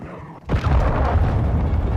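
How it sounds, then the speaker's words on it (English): Cruise missile launch and explosion in the video game Modern Warfare 2, a sudden deep boom after a brief quiet moment, rolling into a loud sustained rumble that fills the rest of the moment. "Hostile cruise missile launched"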